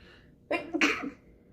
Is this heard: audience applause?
no